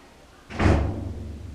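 A single door slams indoors with one sharp, heavy thud, followed by a short boomy decay into a quiet room.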